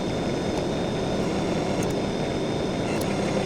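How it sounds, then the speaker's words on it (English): A tractor runs the hydraulics on a Betstco EFGC125 hydraulic offset flail mower, giving a steady, continuous engine drone with a faint whine and no clear change in pitch. It sounds close, with no speech. "And then I'll run my hydraulics"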